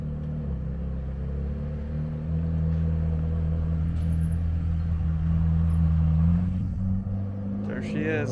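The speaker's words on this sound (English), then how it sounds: "I can hear the car coming." A Ferrari 430 Challenge race car approaches from a distance as a low engine rumble that slowly grows louder, with a person talking over it.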